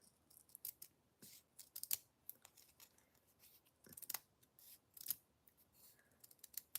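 Scissors snip through small foam craft dimensionals to cut them in half, giving quiet, close, irregular clicks and short crisp cuts spread across a hushed room.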